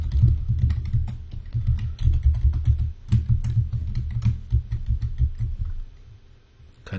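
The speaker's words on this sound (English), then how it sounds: "Type in the username and password." A username and password go in on a computer keyboard as a close, quick run of clicky keystrokes with short pauses, fading near the end.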